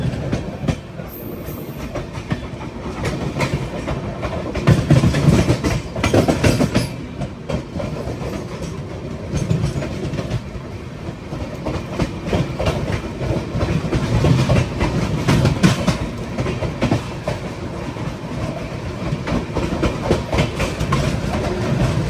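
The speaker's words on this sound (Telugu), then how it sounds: "ఇప్పుడు వెళ్ళింది జీలం ఎక్స్ప్రెస్సే." The Jhelum Express passes close by during a train journey, a loud, continuous rumble and clatter of rolling railway cars with rhythmic wheel beats that surges and fades over about twenty seconds, with no talking.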